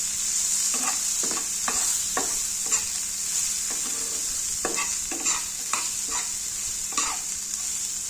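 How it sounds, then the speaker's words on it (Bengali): Chopped onion, green chilies, a cardamom pod and a cinnamon stick fry lightly in a pan, a steady hiss of oil under repeated sharp scrapes and taps of a spatula stirring them together. "পেঁয়াজ কাঁচামরিচ সব কিছু একসাথে মিশিয়ে নেব এবং হালকা ভেজে নেব।"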